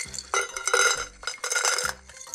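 Kacang disco, coated peanuts, poured into a container as a gaming snack, giving a few loud rattling bursts of clattering pieces with short pauses between pours.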